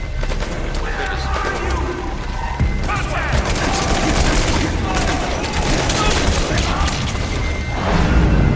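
Sustained gunfire in the video game Metal Gear Solid V, a dense, continuous barrage of shots and booms filling the whole stretch at steady loudness, with voices talking over it.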